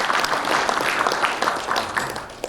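A short burst of thankful applause from a seminar audience after a poem recital at a Seoul breakfast forum, dense even clapping from many people throughout, fading slightly at the end.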